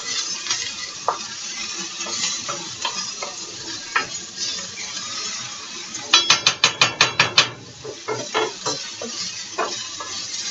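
Bell peppers and garlic sizzling in a frying pan for an omelette, with a steady hiss broken by scraping stir strokes and a quick run of sharp utensil taps against the pan.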